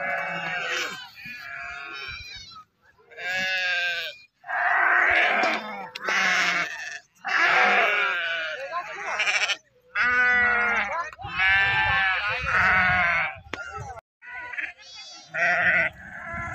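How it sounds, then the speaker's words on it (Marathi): A herd of goats being driven out to graze in the fields bleats over and over, many loud, wavering cries close by that overlap in bursts for the whole stretch. "बकरी शेतात चारण्यासाठी घेऊन निघालेत बघा हे मेंढके बंधू"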